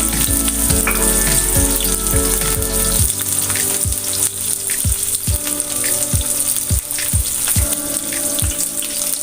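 Onion fries in hot oil in a pan for Nepali chicken fry, giving a loud, continuous sizzle broken by regular scraping strokes of a stirring utensil.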